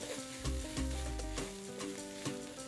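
Rice mixed with ketchup sauce for omurice fries gently over a modest flame, a low continuous sizzle with slow stirring and light scraping in the pan.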